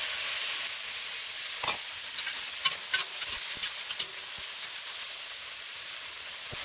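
Steady loud sizzling and hissing of noodles frying in a hot pan for shrimp pad thai, with a few light scrapes and stirring clatters, no voices.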